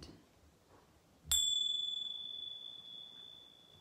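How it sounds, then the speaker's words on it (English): A small bell strikes once with a bright, clear ring used to clear tarot card decks, sustaining and slowly fading for a couple of seconds in a quiet room. "I'm going to use my bells to clear the decks first."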